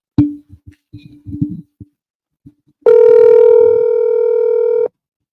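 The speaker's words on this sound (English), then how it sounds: "Phones are ringing, but nobody answering their phone" A telephone rings during a call-in radio show, a single sustained electronic ring tone lasting about two seconds after a few soft clicks and taps, loud and close with no talking.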